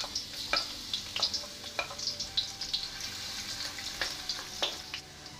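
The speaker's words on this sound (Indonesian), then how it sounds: "Kemudian goreng bawang putih." Garlic frying in a pan, a soft crackling sizzle with sharp pops and scraping stirs from a spatula, close and quiet, with no voices.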